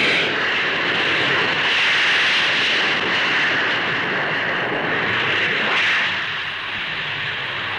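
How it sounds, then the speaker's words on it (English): A de Havilland Comet jet airliner with four Rolls-Royce Avon jets takes off at the Farnborough air show in the 1950s, making a steady, loud, broad jet roar that swells and eases slightly over several seconds. "Powered by 4 Rolls-Royce Avon jets, its takeoff run is exceptionally short."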